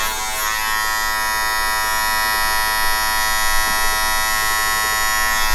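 An electric hair clipper buzzing steadily and loudly at close range during a haircut, with a constant droning hum and no talking.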